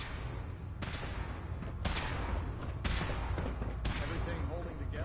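Gunfire in the video game Fallout 4 in rhythmic single shots, four heavy blasts roughly one second apart over steady loud rumbling background.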